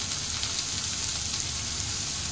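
Tomatoes frying in a pan with salt and turmeric for a tadka, giving a steady, close, even sizzle with no pauses and no talking.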